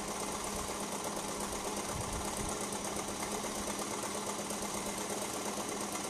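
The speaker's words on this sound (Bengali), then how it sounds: "আমি ঘেরের যে কাপড়টা সেই কাপড়ের দুইটা পাশ লম্বালম্বি দুই পাশকে সেলাই দিয়ে নিচ্ছি।" A sewing machine hums quietly and continuously while stitching the long sides of a baby frock's skirt fabric, an even, rapid mechanical whir with no pauses and no voices.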